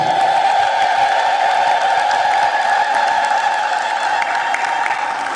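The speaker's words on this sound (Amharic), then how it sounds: "እስቲ እንደው ድንግል ማርያም የምታየው እልልታ እስቲ እልል በሉ" A church congregation ululating together, a sustained high trilling chorus from many voices that fills the room steadily and evenly throughout.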